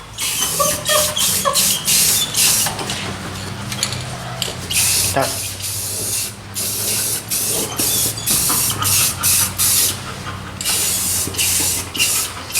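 Coating sprayed onto a car body during a big-block Chevy restoration, heard as loud, close hissing bursts from a spray gun, repeated in short rhythmic passes with brief pauses between them.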